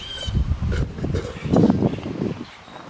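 Gusty wind buffets the microphone in uneven rumbling bursts, loud and close, with faint rustling and no voices.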